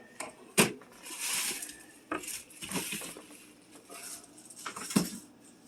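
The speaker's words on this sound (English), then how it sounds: "Getting the chopping board." A chopping board is handled in a home kitchen, producing a few sharp knocks and clinks against the counter and utensils, with soft rustling between the bumps.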